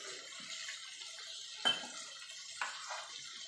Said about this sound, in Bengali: দেখুন বন্ধুরা এবার এই থালাটা দিয়েও জল দিয়ে দেবো